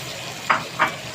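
Sliced onions dropped into a pan of frying peppers and sausage, giving two brief hissing bursts of sizzle over a steady low frying background.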